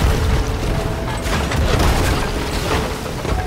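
Ship cannon fire in the pirate game Sea of Thieves, a loud continuous rumble of booms and bursts from close by, dense and churning throughout with no clear speech.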